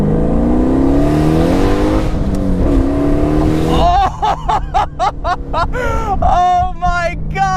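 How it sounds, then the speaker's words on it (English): A 700 hp nitrous-equipped Pontiac Solstice accelerating hard down a straightaway, its engine roaring loudly from inside the car with rising pitch and rapid gear-change dips, as people talk over it. "So let's activate it once we get onto the straightaway and see what 700 horsepower in a fucking Pontiac Slowstice feels like"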